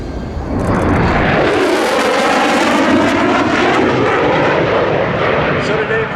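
A US Navy EA-18G Growler jet roars loudly overhead during an air show demo, a sustained powerful blast that swells and slowly fades.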